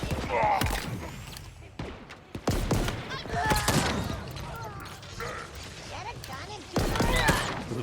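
A gun fires in the Halo Infinite campaign, giving punchy shots and mechanical clacks in scattered bursts over a busy combat backdrop, with a couple of louder blasts near the start and end.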